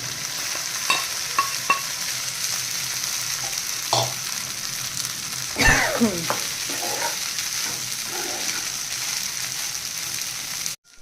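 Sago pearls stir-fry in a pan with fried green chillies, a continuous sizzle broken by scattered scraping stirs and clinks of the spoon against the pan, close and fairly loud with no talk.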